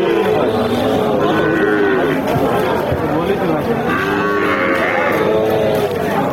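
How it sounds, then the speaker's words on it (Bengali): A cow with its calf at a cattle market, with low lowing rising from a busy crowd of chatter and voices that runs through the whole scene. "দেখতে পাচ্ছেন সাথে যে গাভীর সাথে বাছুর"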